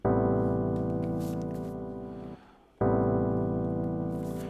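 A lush, sustained minor ninth synthesizer chord held steadily, briefly cut off, then played again and held, with a smooth, warm tone.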